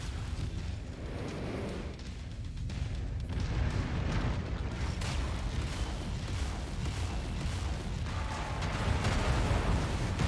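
Mech weapons fire on a target in MechWarrior 5: Mercenaries, a continuous loud barrage of rumbling booms and explosive bursts that builds steadily and layers into a heavy, roaring wash of gunfire.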